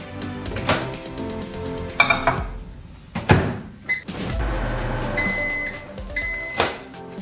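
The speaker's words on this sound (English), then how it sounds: "we're gonna go to the microwave and we're gonna use the soften setting and just get it soft" A microwave oven softening shea butter runs with a low hum, punctuated by clinks of a dish and a few sharp electronic beeps from its keypad, close and fairly loud.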